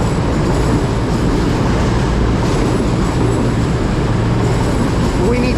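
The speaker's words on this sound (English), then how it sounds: "This is our train that's coming in now, cross-country service to Birmingham New Street." A cross-country train to Birmingham New Street rolls into a station platform in North Yorkshire, a loud continuous rumble and rattle of wheels with faint squeals near the end.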